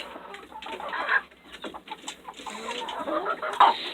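Chickens cluck and squawk busily inside a crowded coop, a dense chorus of near and mid-distance calls with a few louder bursts standing out.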